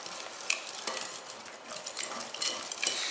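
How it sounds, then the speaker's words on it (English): A whisk stirring flour into a zucchini casserole mixture in a bowl, a close, steady run of soft scraping and clinking strokes with no talk. "Then we're going to whisk this thoroughly."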